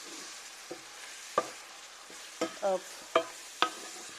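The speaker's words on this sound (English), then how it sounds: "Now we are going to stir all of that" Garlic butter shrimp seasoned with white pepper being stirred in a pan: a handful of distinct scraping clinks from the utensil over a soft, steady sizzle, close and fairly quiet.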